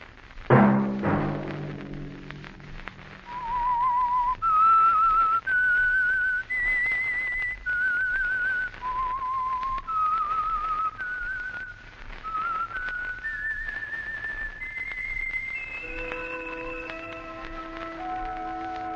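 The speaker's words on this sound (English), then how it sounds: "Let that whistle be your signal for the Signal Oil program, The Whistler" A lone whistled melody serving as the theme signal of The Whistler radio mystery program, a clear wavering tune of sustained notes rising and falling across the whole stretch, loud and close with no talk.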